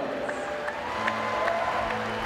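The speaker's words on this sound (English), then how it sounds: "That gets a big cheer as well." A crowd cheers and applauds at a para swimming race at the ASEAN Para Games, a steady wash of cheering voices filling the arena at a fairly even level, with a few brief sharper shouts poking through.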